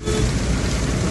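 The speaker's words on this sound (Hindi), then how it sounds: "यहाँ पे भी बारिश बहुत तेज है" Heavy monsoon rain pours down hard, a loud, dense roar of splashing drops with a low rumbling undertone, continuous and close with no voices.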